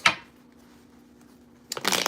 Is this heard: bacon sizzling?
no